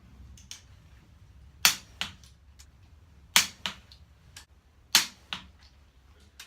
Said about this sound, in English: So I'll adjust my torque wrench to 51 pounds. Do the second round torque in the same sequence